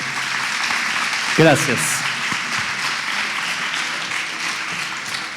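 Audience applause greets a keynote speaker at a corporate conference, a steady broadband clapping wash that holds the whole time, with a brief spoken word in the middle.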